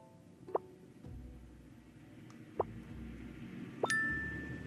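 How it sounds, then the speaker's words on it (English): Three short, bright chimes ring out at well-spaced intervals, task-complete cues from the social deduction game Goose Goose Duck, each a clean ding over a low background hum, with the last one sustaining a little longer. "when a player finishes a task, a soft confirmation sound plays, like a subtle chime or click"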